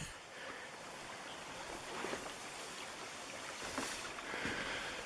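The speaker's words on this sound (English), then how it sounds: "the spring here, creek is running good." Creek in the Indian River valley near Sitka, Alaska, running strong in cold early-snow conditions, a steady broad rushing wash of water, fairly close and continuous, with no voices.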